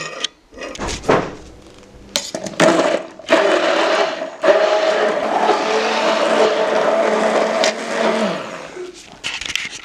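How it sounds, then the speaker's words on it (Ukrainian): A blender whirs steadily at close range, mixing hot cream poured over chocolate and gelatin, its motor drone holding through most of the clip with brief pauses and rattles at the start and a fade near the end. "Закипівшу гарячу масу, виливаю на шоколад та желатинову масу і ретельно пробиваю блендером."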